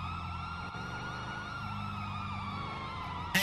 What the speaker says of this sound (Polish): Fajny wóz strażacki.